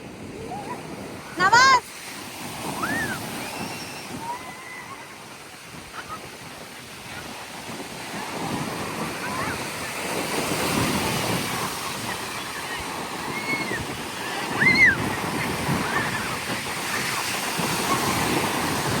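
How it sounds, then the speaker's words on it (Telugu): Strong wind roars steadily past the microphone with the wash of sea waves behind it, and people talk intermittently over the gusts. "ఏం కనిపించట్లా గాలి ఎట్లా వస్తుందో"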